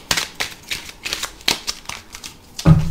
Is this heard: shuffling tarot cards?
yes